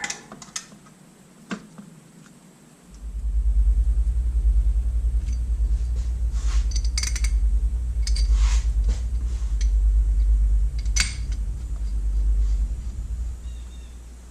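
A Sea-Doo Sportster engine cranks on its starter in a steady, loud, low whirring drone that holds for over ten seconds, with a few sharp clicks and taps before it begins and scattered faint ticks on top of it.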